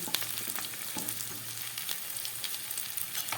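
Onion, capsicum and tomato frying with garam masala, a close, busy sizzle and crackle with light stirring scrapes running throughout.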